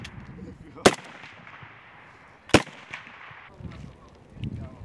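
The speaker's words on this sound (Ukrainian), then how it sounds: "Постріли здійснюють з відстані півсотні метрів." Two sharp gunshots ring out about two seconds apart at a shooting range, fired at fifty metres, loud and close, with faint outdoor background noise and distant murmuring between them.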